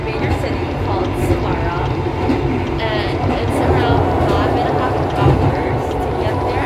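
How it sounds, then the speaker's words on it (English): Loud train running, heard from inside the train's toilet, a steady rumbling roar filling the whole clip with a person talking over it. "I'm sorry the train is so loud."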